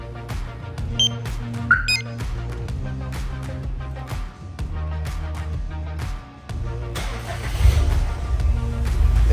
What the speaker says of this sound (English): Now it allows you to start the vehicle.